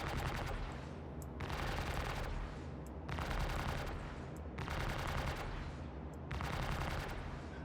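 Ship-mounted guns fire in a flight combat video game in four regular long bursts of rapid gunfire, each separated by a short lull, at a steady moderate level.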